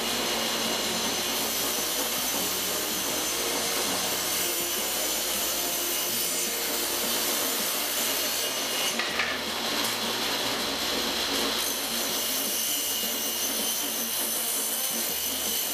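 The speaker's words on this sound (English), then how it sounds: "there's nothing quiet about a table saw" A table saw rips through wood while making a carved welcome sign, a loud, continuous whining roar of motor and blade that holds steady for the whole stretch with only slight shifts as the cut proceeds.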